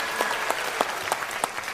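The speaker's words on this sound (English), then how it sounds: "Again, please give her a round of applause for being" Scattered applause from an audience at a live Martin Luther King oratory competition event, sparse individual claps rising and falling across a steady room hiss, moderately distant and fairly quiet.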